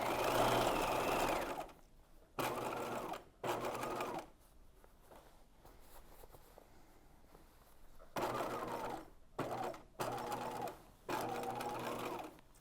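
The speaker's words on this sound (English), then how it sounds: "Here I'm stitching around my basque waist, so in a little V point here." A sewing machine stitches around the basque waist of a bodice, following a small V point, in several loud bursts of steady whirring separated by short pauses and a quieter stretch in the middle.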